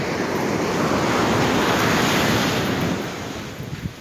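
Sea waves roll and wash steadily at the beach in Puri while wind buffets the microphone, making a loud, broad roar that eases slightly toward the end.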